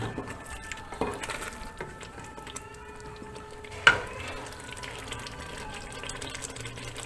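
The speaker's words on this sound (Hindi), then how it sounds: "अब हम इसको मिक्स कर देंगे गरम मसाले को अच्छी तरह से।" A spoon stirs garam masala into an egg and chickpea curry in a pan, with soft scraping and a few light clinks against the metal, one sharper knock partway through, fairly quiet throughout.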